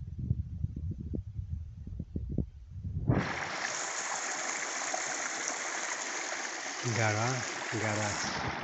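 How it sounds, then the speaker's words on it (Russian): Mountain spring stream pouring straight out of rock, a loud, steady rushing wash that starts abruptly after a few seconds of low rumbling and voice, then runs continuously and close. "И большая река прямо вытекает из камня."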